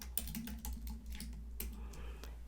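Rapid keystrokes on a computer keyboard while entering text in Adobe Illustrator, a steady run of close, crisp clicks over a low constant hum.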